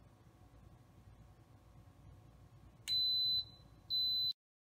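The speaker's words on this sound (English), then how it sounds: "the Instant Pot will beep" Instant Pot pressure cooker beeping, two sharp, loud electronic beeps about a second apart, each lasting under a second, standing out over a faint steady background hum.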